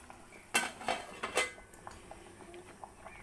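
A spatula stirs sautéed leafy greens in a cooking pot, producing a few close metallic clinks and scrapes in quick succession, then softer faint taps in a quiet kitchen.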